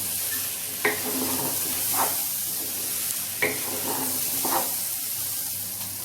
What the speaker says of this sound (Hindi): अब डाल के सारी इंग्रेडिएंट्स को हम चला लेंगे धीरे धीरे और तेज आंच करके इसको अच्छे से भून लेंगे।